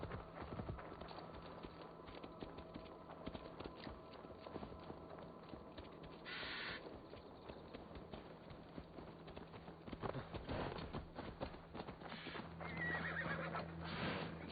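A horse in the Assassin's Creed Valhalla video game neighs and whinnies while hooves clip-clop along, with a loud whinny midway and footfalls continuing around it, all fairly quiet and set against in-game ambience.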